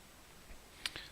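Two quick, crisp computer mouse clicks in close succession near the end, a right-click on a chart, after a stretch of quiet room tone.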